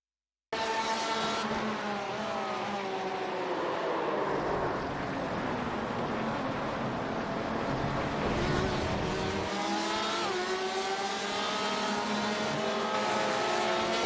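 Race car engines in iRacing, including a black Porsche, roar steadily as pitch sweeps rise and fall through gear changes and passing cars, loud and continuous with faint tyre noise underneath.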